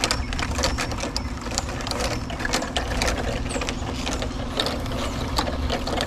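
A plastic bottle being screwed back onto a homemade squirrel baffle gives a steady run of small ratcheting clicks and plastic scrapes, close up, over a constant low background hum.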